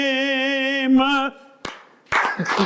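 Hands clap at a South East Nigeria tourism event: a sharp clap, then a louder burst of several quick claps mixed with other noise, coming right after a sustained musical tone fades out.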